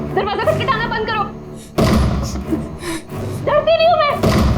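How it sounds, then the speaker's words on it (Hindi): Heavy thuds on a door break in between stretches of a voice talking, with a couple of knocking bursts partway through and near the end. "दरवाजा खटखटाना बंद करो।"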